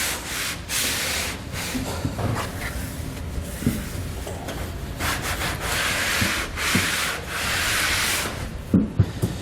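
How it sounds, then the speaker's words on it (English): A wet wipe rubs across the bulkhead of a 2020 Jeep Gladiator truck bed, making a close, continuous scrubbing swish in repeated strokes, with a few small knocks near the end. "I'm just going to take a wet wipe here, just wipe this down, get any dirt and debris off there"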